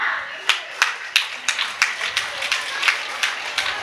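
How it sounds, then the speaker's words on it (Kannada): Audience at a primary school prize ceremony clapping together in a steady, even rhythm of about three beats per second, moderately loud with no voices over it. "ಎಲ್ಲರೂ ಚಪ್ಪಾಳೆ ಕೊಟ್ಟು"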